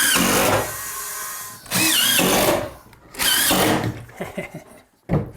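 A power drill drives screws into cement board in loud, close bursts of whining motor and grinding, three main runs separated by short pauses, with lighter clicks and clatter between.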